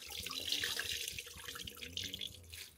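A towel soaked in rinseless car wash solution is wrung out, liquid splashing and dribbling in close, uneven bursts into a bucket, with no one speaking.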